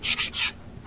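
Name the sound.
sanding leather with a sanding pad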